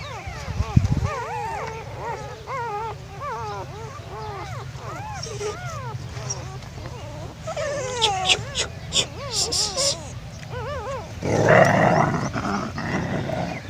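Village dogs eating roti as another dog runs up, with a series of close whimpers, soft yelps and low growls, then a brief rustling scuffle near the end while a person talks intermittently.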